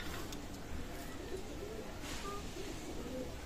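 Chinese female pigeons coo softly at a pigeon loft. The low, repeated coos sit faintly in a steady background hiss, with no one speaking.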